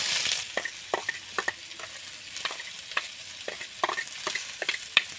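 Onions frying in hot oil for an egg curry. A constant sizzle is broken by repeated sharp spatula scrapes and stirring knocks at an uneven rhythm, with no talking.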